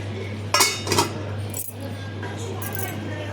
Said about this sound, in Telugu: కొంచెం గిట్టాని ఇప్పుడు మూత పెడదాం.